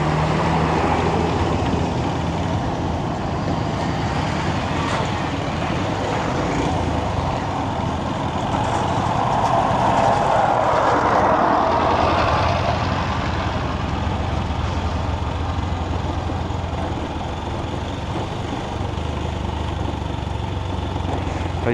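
A small Bajaj Pulsar motorcycle rides off-road in Nepal, its engine droning steadily and loud close to the rider, rising slightly midway and holding at a constant moderate pace.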